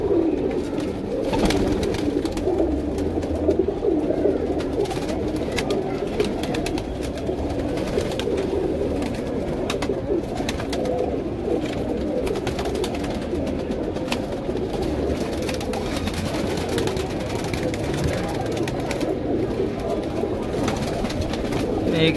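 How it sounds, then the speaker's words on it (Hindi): Sharangpuri pigeons cooing in a Mumbai Kurla coop, a continuous low rolling coo from several birds alongside scattered wing flutters and rustling, steady and close throughout. "खाली सारंगपुरी कबूतर का वीडियो है भाई"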